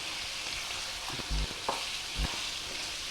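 Masala with garam masala fries for a chicken and bottle gourd curry, a quiet steady sizzle broken by a few soft knocks and scrapes from stirring in the pan.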